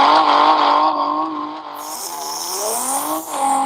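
A loud BMW race car engine sound effect from a Carrera slot car app roars steadily, its pitch dipping and rising as it revs, close up and continuous with no voices.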